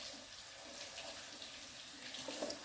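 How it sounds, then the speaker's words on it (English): Tap water runs steadily into a sink while celery stalks are washed, making an even, close splashing hiss with slight surges near the end. "First, you have to wash these celery stalks, because they have dirt at the bottom of it."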